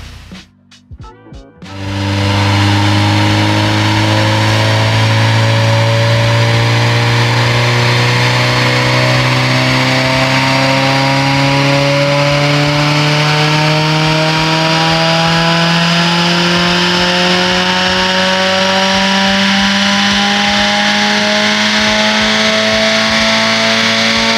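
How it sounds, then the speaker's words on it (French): A Nissan S13 drift car with a V8 engine is run on a dyno, starting with a few rough idle blips before a long, loud, sustained pull with the revs climbing steadily throughout. "la voiture est chaude, le banc est paramétré, c'est parti pour les tirs"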